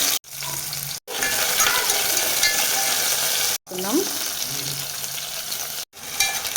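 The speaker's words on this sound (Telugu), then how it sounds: "2 స్పూన్లు కొద్దిగా జీలకర్ర వేసుకున్నాము. పచ్చిమిర్చి వేసుకున్నాము." Cumin seeds and green chillies crackle and hiss in two spoons of hot oil, a continuous close sizzle with utensil stirring, broken by several short abrupt silences.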